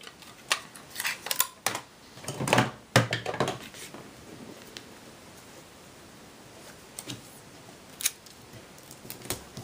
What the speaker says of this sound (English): So let's go ahead and tape on some ribbon here.